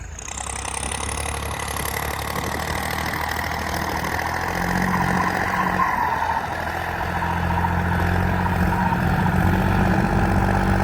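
A John Deere 5040D turbo tractor engine runs at about 1400–1500 rpm, a steady, close diesel drone with a deep low rumble that holds even throughout, with no talking.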